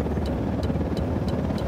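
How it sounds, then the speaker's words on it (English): Helicopter approaching in the video game Ghost Recon Wildlands, a loud, steady rotor drone with rhythmic blade thumps repeating about every third of a second, no voices. "Chopper inbound."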